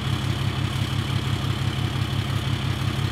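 A dump truck's diesel engine idles steadily, a loud continuous low rumble with a throbbing pulse and a second higher tone layered above, heard close with no talk.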